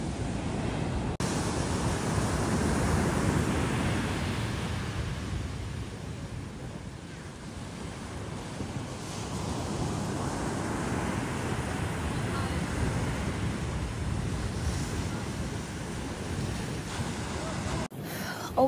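Big ocean waves breaking at Nazaré, Portugal, a continuous loud roar of surf heard from the shore, mixed with wind buffeting the microphone.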